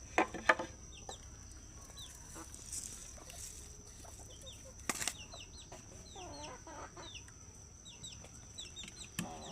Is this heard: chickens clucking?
yes